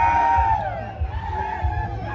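Crowd at a Oaxacan Mixteca band performance in San Juan Piñas shouting, whooping and cheering in loud, overlapping bursts, with a high yell standing out near the start.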